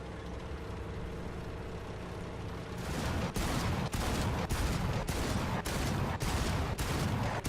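An M42 anti-aircraft gun in War Thunder fires armor-piercing rounds over a steady engine rumble, a rhythmic series of about eight heavy, evenly spaced loud shots starting a few seconds in.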